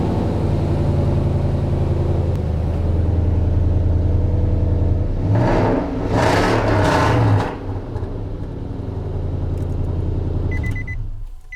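A Nissan Titan truck engine idles steadily and loud up close, then revs up hard in a couple of quick bursts above 3,000 RPM before dropping back to a steady idle.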